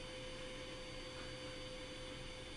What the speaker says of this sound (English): You scared of the vacuum cleaner? I'm sorry, I know it's loud.